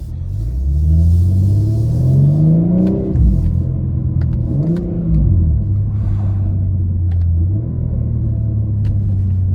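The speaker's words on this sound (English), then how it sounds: "Downshifts are crazy, bro." A 1000HP BMW M4 Competition revs loudly from the driver's seat, its engine pitch climbing and then dropping sharply through several downshifts, with deep rumbling blips between gears and a steady drone after them.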